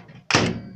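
A microwave oven door shut with a single short thunk, close and moderately loud after a moment of quiet.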